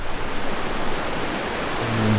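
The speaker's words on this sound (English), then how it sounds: "I've just come across this incredibly beautiful river." Broadband rush of a river flowing near a bridge on a walk in Italy between Rome and Bracciano, steady and close, with no talking.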